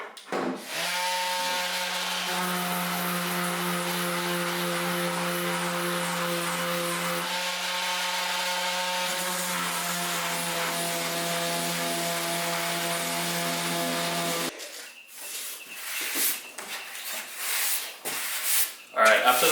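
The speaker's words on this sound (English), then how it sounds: "after this rough sand, now that we got it feeling relatively smooth to the touch" A power sander roughs down body filler and primer on a Mazda NA Miata body panel, a loud continuous droning hum lasting most of the stretch before cutting off into scattered handling noises and talk.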